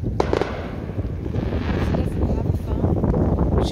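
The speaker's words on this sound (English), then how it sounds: "Look at the fireworks." Distant Fourth of July fireworks crackle and pop in a dense, continuous rumble, heard outdoors through steady wind noise on the microphone.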